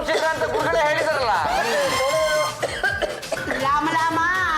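A man coughs repeatedly in a TV serial scene, with harsh, close bursts mixed in among voices speaking.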